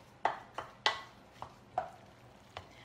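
A spoon stirring cheese into a squash stuffing makes a handful of sparse, quiet clinks and taps against the dish, spaced irregularly.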